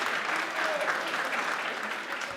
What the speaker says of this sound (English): Clap it up one more time for yourself